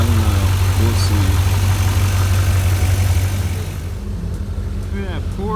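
A Porsche engine idles with a steady, loud low hum that holds throughout, while people talk over it.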